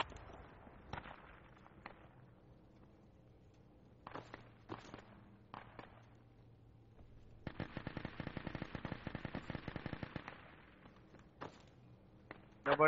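Squad gunfire in a military shooter video game: scattered single shots and short bursts early, then a sustained rapid automatic burst for a few seconds, followed by more isolated shots, moderately loud with footsteps between.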